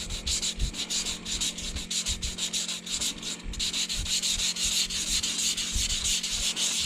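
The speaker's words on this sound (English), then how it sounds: "I got a piece of a 320 sandpaper, and just you know the drill. Just go back and forth," Steady back-and-forth rasping of 320-grit sandpaper rubbed along an arrow shaft, close and continuous with a quick regular rhythm.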